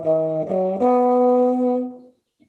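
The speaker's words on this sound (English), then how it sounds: "what this transition sounds like on trombone," A single trombone plays a short bebop chord-transition phrase from F toward E, three sustained notes stepping upward in pitch, the last held for over a second before cutting off, close and clear.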